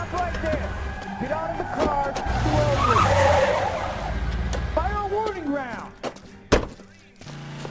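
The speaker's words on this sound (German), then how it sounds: "Wie lange willst du noch wegfahren? Irgendwann ist deine Karre hinüber, garantiert." A car in the video game L.A. Noire driving hard and skidding, with tires squealing in bursts, a sharp thunk near the end and people talking over the action.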